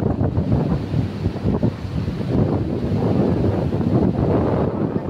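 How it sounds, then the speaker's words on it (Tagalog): Strong wind at the seashore gusting and rumbling against the microphone, loud and continuous, with surf washing beneath it. "Hangin."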